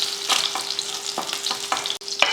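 Garlic, onion and tamarind sauté in a pan, a close sizzling broken by repeated scraping stir strokes at an uneven rhythm.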